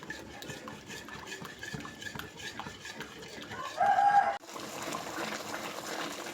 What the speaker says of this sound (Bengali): আমি কিন্তু অনবরত নাড়তে থাকছি, একদমই নাড়া বন্ধ করছি না